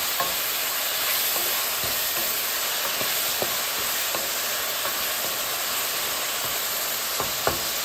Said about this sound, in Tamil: இதோடு நான் கறிமிளகாயம் போட்டு வதக்கி கொள்வேன்